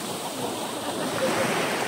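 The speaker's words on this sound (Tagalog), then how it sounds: "Doon malakas yung alon na yun" Ocean waves rush and hiss at Jomalig Island, Philippines, in a steady, full wash of surf, close and moderately loud, with no voices.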